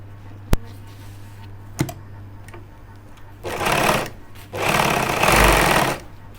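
A sewing machine stitches a front pocket on a pair of trousers, running in two loud bursts after a few sharp clicks. No one speaks.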